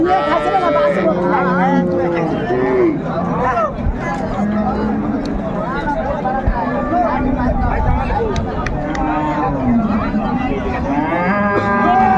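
A cow and her calf moo repeatedly amid a busy cattle market, drawn-out lowing calls rising over a constant babble of people talking nearby.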